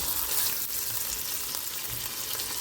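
Beef and vegetables sizzle loudly in a hot pan for spicy lo mein, a steady close frying hiss with faint scraping as the food is stirred continuously.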